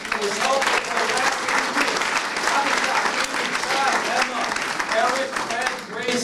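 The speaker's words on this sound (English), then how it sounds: "please round of applause" Dense, sustained applause from a large audience for Microsoft employees at a high school summer AI career academy, a steady wash of many hands clapping at full volume throughout, with a voice faintly audible beneath.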